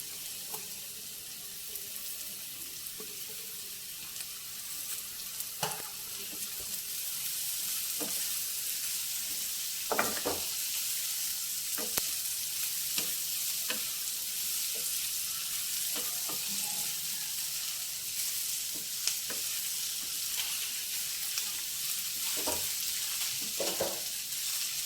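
Carrot, butter and cucumber fry in a pan for a veg egg bhurji, with a constant soft sizzle broken by frequent spoon clicks and scrapes of stirring, with no voices.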